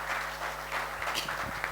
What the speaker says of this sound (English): All will stand and have a applause to Dr. Sunil.